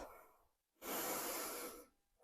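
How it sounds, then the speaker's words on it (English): A yoga instructor takes a long, audible breath while holding a standing balance pose, a soft airy exhale swelling and fading, close and alone with no talk. "Breathe."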